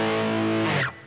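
A distorted electric guitar holds a sustained chord from a song's solo, loud and close, before it cuts off sharply just under a second in.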